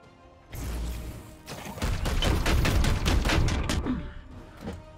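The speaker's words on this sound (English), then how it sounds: "Firing on target." Loud bursts of video game gunfire in Warhammer 40k: Chaos Gate – Daemonhunters, a rapid volley of close, cracking shots that swells and then tapers into a few last scattered hits.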